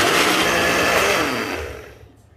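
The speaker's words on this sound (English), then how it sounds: "I'm going to do a little bit here and see how this blender works." A blender whirring at high speed through a liquid turkey marinade, a loud steady buzzing whine for nearly two seconds that then winds down and cuts off.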